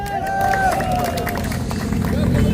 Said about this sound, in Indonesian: Tepuk tangan buat gubernur.